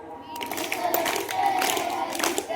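Schoolchildren at a village school assembly clap and cheer together, a dense, steady wash of many small hands with shouted voices rising over it, close and loud from start to finish.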